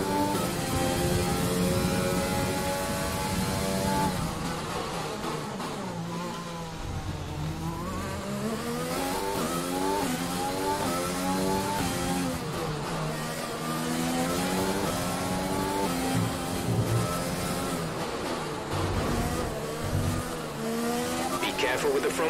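A Formula 1 car in the F1 2020 racing game howls continuously, its engine pitch climbing and dropping through gear changes with tire noise underneath, while someone talks over it throughout.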